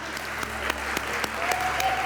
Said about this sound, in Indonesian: Yang bagi atas tepuk tangan dulu buat Tuhan.